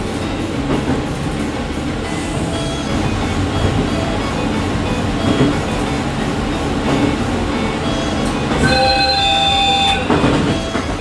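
The limited express Niseko passes through Otaru-Chikko Station, giving a steady, close rumble of wheels and carriages with a brief tonal horn near the end.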